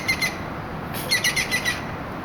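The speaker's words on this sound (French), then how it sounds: "Ah, c'est un oiseau, il est joli." A bird sings outdoors in short bright chirping bursts over a steady wind and ambient background hiss.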